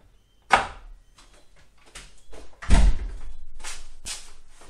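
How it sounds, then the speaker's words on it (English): Household door swung shut in a room with a loud thud, preceded by several softer knocks and shuffling handling sounds, then a low rumbling tail as it settles. "I'll close the door."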